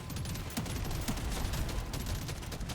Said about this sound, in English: Double tapping with the boomstick, always great.